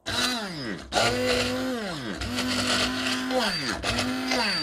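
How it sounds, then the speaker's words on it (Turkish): A kitchen blender purees boiled, drained potatoes for mashed potatoes, giving a loud, steady whir with repeated pitch sweeps as the motor bogs down and speeds up through the thick mash. No voices are heard. "Şimdi blenderdan geçiriyoruz."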